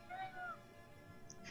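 A kitten lets out a faint, drawn-out meow with a rising and falling pitch, followed by a brief second squeak, thin against a quiet background.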